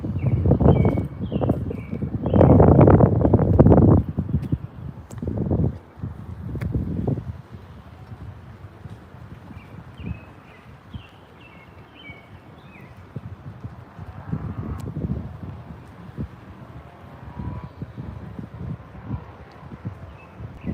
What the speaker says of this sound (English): Oh, please, Mr. Wind, go away.